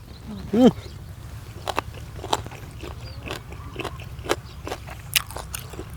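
Crunchy chewing of grilled pork neck eaten outdoors in a field, with soft intermittent bites and crunches close to the ear, faint against a low background hum.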